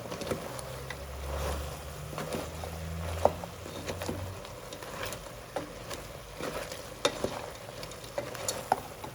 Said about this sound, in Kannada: ಶುಂಠಿ ಬೆಳ್ಳಿ ಪೇಸ್ಟ್ ಹಾಕ್ತಾ ಇದ್ದೀನಿ ಎರಡು ಸ್ಪೂನಷ್ಟು ಹಸಿ ವಾಸನೆ ಹೋಗೋವರೆಗೂ ಚೆನ್ನಾಗಿ ಹುರ್ಕೊಳ್ಬೇಕು